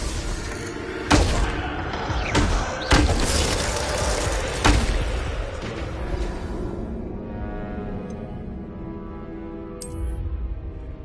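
Bombarda spell blasts in Hogwarts Legacy, several loud sharp bursts with crashing, shattering debris spaced a second or two apart, then fading into a ringing tail and quiet near the end.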